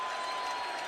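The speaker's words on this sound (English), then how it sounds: "Crowd responding to a score they saw" A large American football stadium crowd roars in a steady, broad wash of cheering and applause after a score, loud and continuous for under a second with no individual voices standing out.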